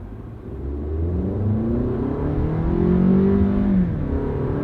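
A Toyota with a new transmission in normal drive mode accelerates smoothly, its engine note climbing steadily in pitch and loudness from inside the car before levelling off near the end.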